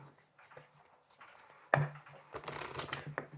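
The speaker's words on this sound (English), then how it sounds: "One more shuffle, please." Tarot cards shuffled by hand in a quiet room, a sharp riffle followed by a longer burst of soft, papery flapping and sliding.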